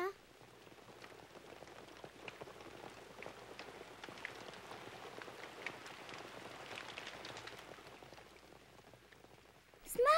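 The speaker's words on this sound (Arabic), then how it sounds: "اسمعي المطر وهو بيخبط على التندة" On a children's TV show, rain falls and drums on an awning as a soft, continuous patter of scattered drops. It stays faint and even throughout, with a brief louder sound at the very end.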